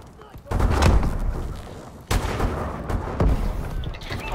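Heavy gunfire and explosions in a Call of Duty Advanced Warfare multiplayer match, with two loud booming bursts that ring out and decay, over continuous game noise.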